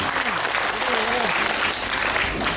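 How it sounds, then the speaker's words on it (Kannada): An audience claps for the women who led a procession at a Bhagiratha Jayanti celebration in Gauribidanur, with steady crowd applause throughout and voices and singing or chanting carrying over it. "ಎಲ್ಲ ಮಹಿಳೆಯರಿಗೆ, ಮಾತೆಯರಿಗೆ ಜೋರಾಗಿ ಚಪ್ಪಾಳೆ ತಟ್ಟಿ ಅಭಿನಂದಿಸೋಣ"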